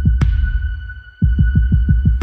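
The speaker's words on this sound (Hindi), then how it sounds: "मैं तुम्हारी धड़कन सुन सकता हूँ" A deep, booming heartbeat sound effect in a trailer for the series Monster: The Jeffrey Dahmer Story, one isolated thump, a short pause, then a run of evenly spaced throbbing beats over a sustained high tone.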